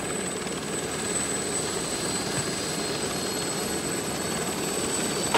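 Helicopter flying during an emergency police operation, a steady broadband rotor and turbine roar holding constant and fairly loud throughout, with no talking over it.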